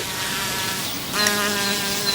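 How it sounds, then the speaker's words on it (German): A bee buzzes steadily and close by, a continuous droning hum that grows slightly louder partway through, with no voices. "Und immer noch ist das Biene da."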